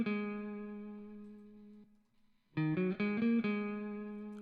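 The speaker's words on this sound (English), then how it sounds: "So next sound is another guitar sound." Sustained electric guitar tone soaked in heavy reverb from a sample, a long ringing note that fades out, then a new phrase of several distinct notes that ring on loudly.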